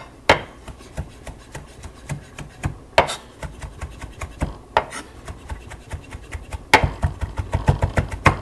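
A knife chops parsley on a wooden board for a tagine garnish, with steady close rhythmic taps punctuated by several sharper, heavier strikes.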